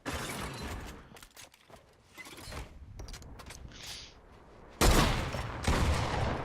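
Shotgun blasts in a battle royale video game ring out as sharp, loud reports amid crackling action sounds, with two strong shots near the end standing out above the quieter game noise.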